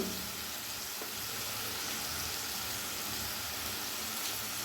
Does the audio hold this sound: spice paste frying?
yes